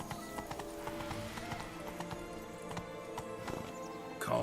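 Horses gallop in The Witcher 3: Wild Hunt, Blood and Wine, with a steady, rapid clip-clop of hooves, a brief whinny, and game music underneath throughout.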